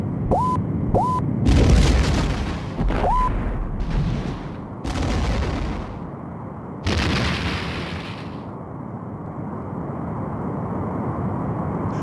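Explosions from a Romulan warbird being destroyed in the video game Star Trek: A Final Unity come as a series of loud booming blasts. Short rising electronic tones sound between them, and the sequence ends in a low sustained rumble.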